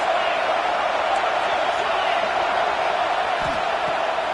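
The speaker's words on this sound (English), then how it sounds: "This crowd bringing the energy and noise early." A dense, steady roar from a large stadium crowd holds throughout, loud and continuous, with faint scattered shouts within it.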